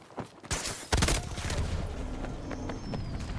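Rapid bursts of MP9 submachine gun fire in the Battlefield 2042 shooter, loud close sharp volleys in quick succession with layered battle noise and distant shots behind.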